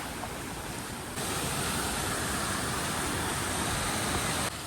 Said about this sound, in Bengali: এখনই জাস্ট পড়ছে দেখো ঝর্ণার মতো